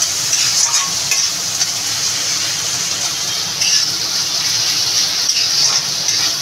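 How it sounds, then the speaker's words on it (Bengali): Chopped pointed gourd (potol) fries in a pan with a steady, loud, close sizzle that hisses continuously, with faint stirring scrapes now and then and no voices. "আর এদিকে পটল ভাজাটাও হচ্ছে।"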